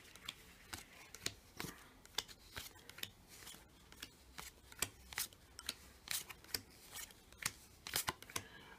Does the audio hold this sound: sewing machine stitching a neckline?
no